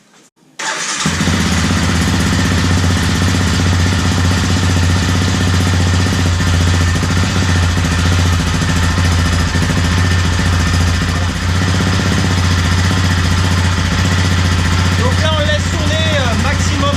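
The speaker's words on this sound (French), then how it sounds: "On va démarrer la machine 3 minutes." A Yamaha Raptor 700 ATV engine starts abruptly after a brief quiet moment, then settles into a loud, steady idle with a deep constant rumble, after an oil change.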